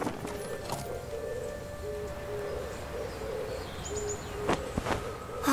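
Horses' hooves clip-clop in the video game Masquerada, a soft steady clatter under a background tone and ambient noise, ending in a few louder knocks.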